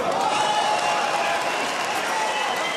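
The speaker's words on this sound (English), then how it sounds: "the crowd responding, of course" A large arena crowd at a light heavyweight boxing match between Sergey Kovalev and Anthony Yarde roars and applauds continuously after a jab, a dense, sustained wash of cheering with faint commentary voices mixed in.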